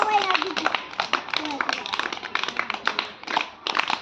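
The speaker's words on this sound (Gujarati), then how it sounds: "તાળીઓ પાડો સરસ" Children clapping in a classroom during a number-learning lesson, a run of sharp, uneven claps close by, quick and slightly scattered, with a voice heard briefly at the start.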